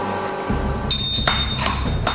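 Forging a sword from steel smelted from river sand: a hammer strikes hot metal, giving several sharp metallic clangs with a brief ringing tone, spaced irregularly in a workshop.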